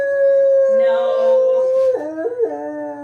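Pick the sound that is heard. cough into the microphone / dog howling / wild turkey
dog howling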